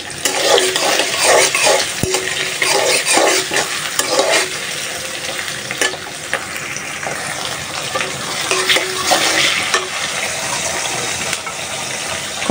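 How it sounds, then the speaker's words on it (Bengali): Bitter gourd and potato frying in oil in a wok, a continuous close sizzle broken by scraping and stirring clatter from a spatula throughout, with no talk. "আস্তে আস্তে ভাজিটা করি"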